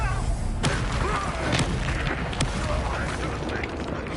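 Confringo blasting spell from Hogwarts Legacy, heard as a few sharp booming bursts scattered through a dense, busy game soundscape with no pause between the blasts.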